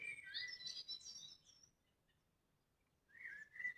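Bird calls heard outdoors, faint and distant: a burst of chirping whistles, a quiet pause, then another call near the end.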